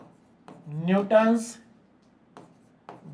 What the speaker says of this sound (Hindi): तो अब यहां पर लिख लेते हैं